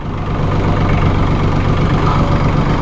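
Compact Massey Ferguson 1635 hydrostatic tractor from 2011, diesel engine running steadily at idle with a low throbbing hum as the PTO is engaged, continuous and close with no talk.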